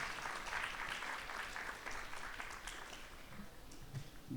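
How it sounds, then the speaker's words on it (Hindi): Applause at a poetry competition prize announcement, a steady patter of clapping from a seated audience, moderately distant and fairly quiet, holding even for several seconds with no talking over it. "तालियां बजती रहें प्लीज, तालियां बजती रहें।"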